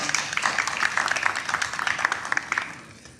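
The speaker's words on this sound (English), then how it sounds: "that was a clap for me." An audience at a town hall meeting claps in a dense burst that fades out over a few seconds.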